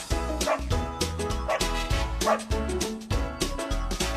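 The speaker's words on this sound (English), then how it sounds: "Dog." Several sharp dog barks pop out in a loose rhythm over a bouncy, steady musical backing.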